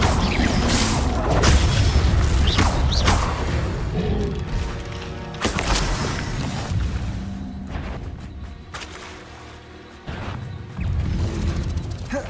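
Confringo blasting spell in the Hogwarts Legacy video game, a series of loud booming explosions and crashes with whooshes and thuds, several sharp bursts in busy combat.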